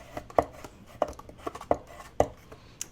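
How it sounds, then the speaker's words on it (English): Paper being pressed and creased with a bone folder while making a small treat bag from scraps: five sharp, evenly spaced taps or presses about every 0.6 seconds, close and fairly crisp, with no talking. "I'm just going to flip it over and use my bone folder. Press all that in."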